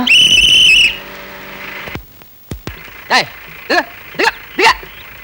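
A sharp whistle is blown to signal a bus to stop: a loud, shrill blast lasting about a second, then a few short, chirpy whistle notes spaced apart.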